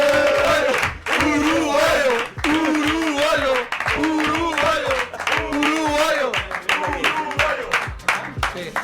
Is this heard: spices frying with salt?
no